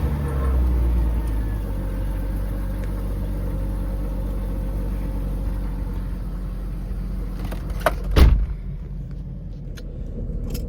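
A Jeep drives along a road, with a steady low engine and road rumble throughout, a brief louder thump near the end, and no talking.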